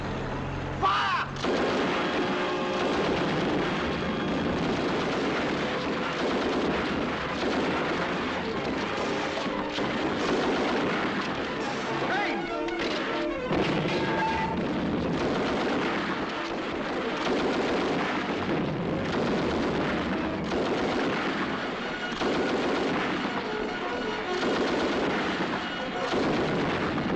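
Dense battlefield gunfire and artillery fire from a 1944 British war film, a continuous loud barrage of rifle shots, bursts and heavy booms running throughout without a break.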